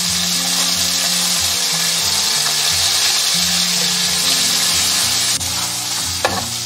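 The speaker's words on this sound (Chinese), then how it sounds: "把它两面煎金黄。" Chicken wings pan-fry in oil with a loud, continuous close sizzle over a low steady hum, with a brief sharp knock near the end.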